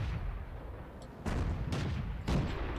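Tank cannons in World of Tanks boom in a few heavy, distant-sounding shots, each followed by a rumbling tail over a steady low battlefield drone.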